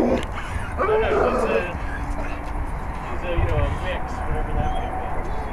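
A blue pit bull barks and yips outdoors in short, irregular bursts, fairly close, with people talking over and between the barks and some low background rumble.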